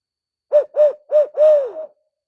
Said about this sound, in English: It was a lot of hoots.